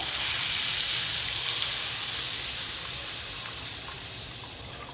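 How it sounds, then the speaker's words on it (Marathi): Water poured into hot oil spiced with cumin and chilli masala for a curry broth, a loud steady gushing rush that fades slightly toward the end. "पाणी घालून घेऊया।"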